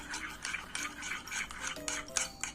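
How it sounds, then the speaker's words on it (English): Baking soda is stirred into a clear glue slime mixture, a soft wet scraping and rubbing of a utensil against a bowl that repeats in an uneven rhythm, close and fairly quiet with no talk. "Now let's mix our baking soda"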